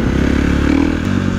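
A KTM 450 SXF four-stroke dirt bike engine revs loud and close, with a throbbing low-pitched drone and clattering mechanical noise.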